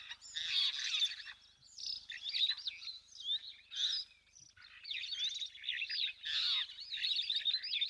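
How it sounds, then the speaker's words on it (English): Birds at an African waterhole, including rollers, superb starlings and firefinches, chirp and twitter in a dense, continuous chorus of bright overlapping calls, fairly distant and soft, with no voices. "this beautiful collection of bird life, some crazy colours, rollers, superb starlings, firefinches"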